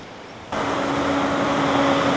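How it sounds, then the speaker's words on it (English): A truck on a canyon road roars in abruptly after a quiet moment, a loud, steady close pass with a broad engine and tyre rumble and a faint tonal hum that holds to the end. "those trucks are what makes it occasionally loud."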